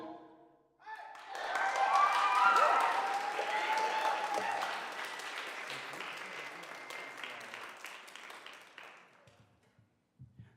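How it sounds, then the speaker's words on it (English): Applause and cheering from a livestream audience for a band just after a song, swelling in quickly, then fading gradually toward the end with a few scattered claps left. "Can we get one more big round of applause for the band on that one?"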